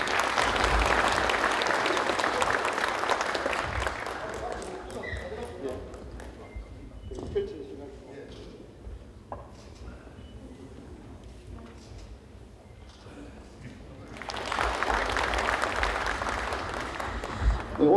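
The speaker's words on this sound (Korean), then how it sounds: "박수 부탁드립니다" Applause from an audience at a farming forum MOU signing ceremony, strong clapping at the start that dies down under a speaker's voice and then swells again near the end.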